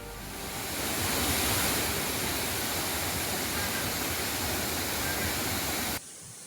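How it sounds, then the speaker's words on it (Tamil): The Five Falls at Courtallam is in sudden flood after continuous heavy rain, giving a loud, dense, unbroken roar of rushing water that stops abruptly near the end. "தொடர் கனமழை காரணமாக குற்றாலம் 5 அருவியில் திடீர் வெள்ளப்பெருக்கு."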